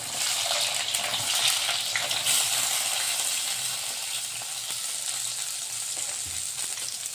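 Chopped onions and green chilies fry in a pan for a methi and peanut dish, giving a steady, close hiss of sizzling with faint stirring scrapes throughout, no voices.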